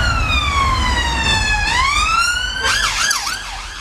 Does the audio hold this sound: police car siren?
yes